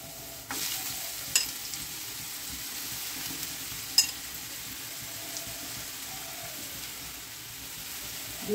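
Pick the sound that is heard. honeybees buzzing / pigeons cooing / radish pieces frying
radish pieces frying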